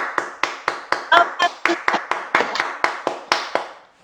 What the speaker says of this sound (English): So let's put up a big round of applause for Sai Prakriti,